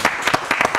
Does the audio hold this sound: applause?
yes